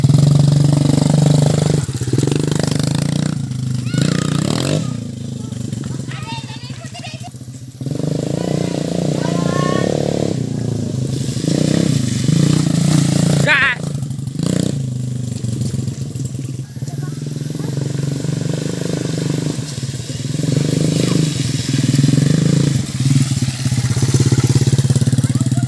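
A motorcycle engine on a slippery road, idling and revving in bursts close by, cutting out briefly in places, while people talk over it.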